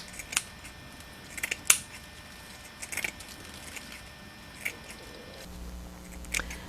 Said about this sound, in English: You can take your scissors and thin some of the fibers in the areas you like